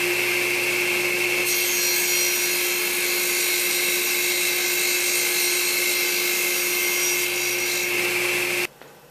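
A table saw rips a square wooden stick against the fence, a loud steady whining cut with a strong constant tone that runs unbroken for about eight and a half seconds before stopping abruptly.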